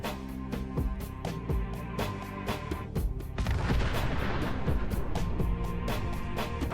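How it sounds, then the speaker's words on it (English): Repeated booming blasts and gunfire-like bursts from a mini nuke fired in the video game Fallout 4, a dense run of sharp loud detonations with rumbling low end, growing heavier midway. "in Fallout 4, if I fire the mini nuke straight up into the air"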